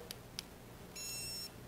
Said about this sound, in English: you heard it beep